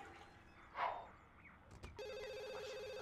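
A cell phone starts ringing in The Sims 2, a steady electronic tone that begins about two-thirds of the way through after a brief whoosh and soft clatter, sustained and fairly quiet.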